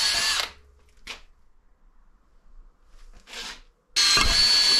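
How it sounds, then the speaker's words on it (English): A power drill whines in several short bursts separated by near silence, ending with a loud sustained run. "Right, we've got to drill this. I'll just go slowly for start."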